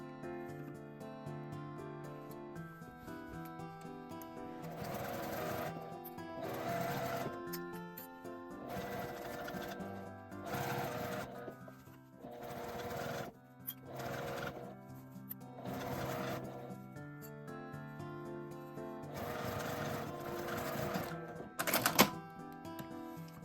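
A sewing machine stitches a seam on quilted nubi fabric for a tote bag, running in repeated bursts of rapid mechanical chatter with brief pauses between them, close and steady.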